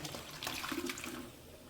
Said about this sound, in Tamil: நம்ம கொஞ்சம் தண்ணி கலந்து ஊற்றிக்கோ